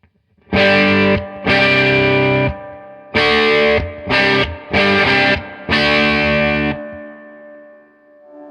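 Electric guitar through a Mosky LM741 overdrive preamp pedal switched to its 250 setting, six loud, thick distorted chord stabs of varying length in a steady rhythm, the last one fading out, with no talking.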